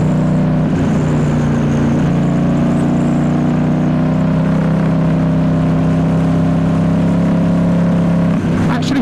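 A 2019 Ducati Diavel S with a full exhaust system drones steadily while riding, a loud continuous engine note mixed with wind noise, with a voice talking over it.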